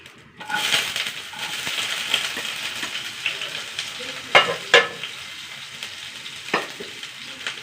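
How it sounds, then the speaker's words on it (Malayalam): Onion sautéing with mustard seeds in hot coconut oil, a steady close sizzle and crackle throughout with a few sharper pops and spatters partway through. "സവാള ഒന്ന് വഴണ്ട് വരട്ടെ."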